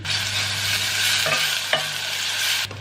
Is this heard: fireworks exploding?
no